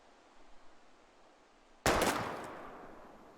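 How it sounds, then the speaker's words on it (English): A single sharp gunshot from a video game, fired at bottles in Life Is Strange, cracking out after quiet and trailing off in a decaying echo. "We're gonna shoot all these bottles without wasting a single bullet."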